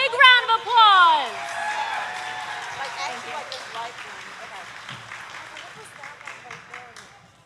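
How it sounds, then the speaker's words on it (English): A convention crowd at the TooManyGames 2024 gaming event claps for a performer, opening with loud whoops and cheers before steady applause gradually fades over several seconds. "We love the cool things and fantastic job. Big round of applause."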